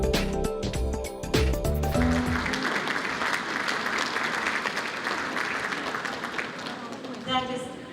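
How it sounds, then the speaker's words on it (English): A large audience at an evening export awards ceremony breaks into sustained, loud applause that swells and continues steadily for several seconds, with a few brief tones near the start. "a big round of applause for our chief guest this evening"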